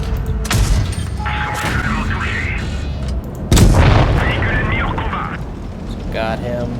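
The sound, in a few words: tank cannon fire in the video game World of Tanks Blitz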